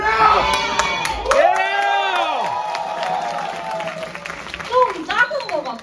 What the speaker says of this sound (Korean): 함성이랑 박수 좀 크게 해주실 수 있나요?